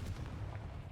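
A Confringo fire spell blasting in Hogwarts Legacy, a faint, muffled low boom and rumble filling the whole brief moment with no clear onset.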